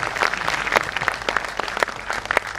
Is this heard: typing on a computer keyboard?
no